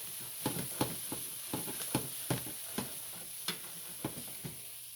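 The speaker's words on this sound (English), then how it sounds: "Let it cook about a minute or two longer while I'm stirring it." Onions caramelizing in a pan for goulash sizzle quietly, with a steady series of soft scraping stirs at a regular pace and no talk.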